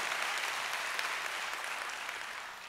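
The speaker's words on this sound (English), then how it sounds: "Why don't you clap your hands like someone's going to get a miracle today?" A church congregation claps hands together during a service, a dense, steady wash of many overlapping claps that stays loud and close throughout with no clear pauses.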